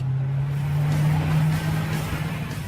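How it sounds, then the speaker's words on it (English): Inside the cabin, a Koenigsegg's supercharged 5-litre V8 runs as a steady, loud, bassy drone with no break. "When you fire up the engine, of course, the cabin fills with engine sound."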